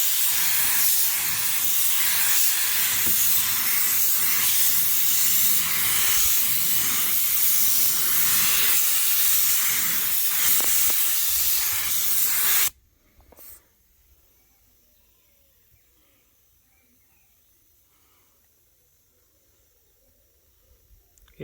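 A spray gun lays 2K clear coat on an Evo 5 at low pressure, giving a steady loud hiss for about twelve seconds before it cuts off abruptly into near silence.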